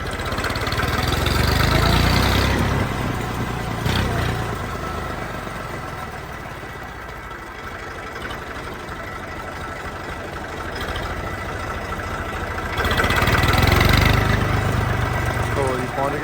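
A Swaraj 855 tractor engine idles with a steady low rumble, surging louder at the start and end, while people talk over it.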